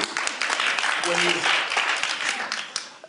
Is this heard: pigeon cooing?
no